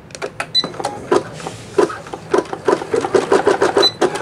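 A Janome MC9000 embroidery machine sews out a design with a quick, uneven train of clattering needle stitches, close and steady, punctuated by occasional higher mechanical clicks.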